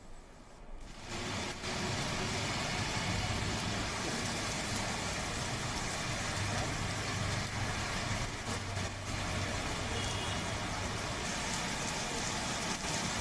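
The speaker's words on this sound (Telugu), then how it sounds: "సికింద్రాబాద్ ప్యాట్నీ సెంటర్ నుంచి పంజగుట్ట వరకు ఫ్లైఓవర్ల మీదుగా ట్రాఫిక్ భారీగా స్తంభించిపోయింది" Steady broadband roar of rain and idling traffic on a jammed flyover route from Secunderabad's Patny Centre toward Panjagutta in Hyderabad during a heavy thunderstorm, continuous and loud, with no speech.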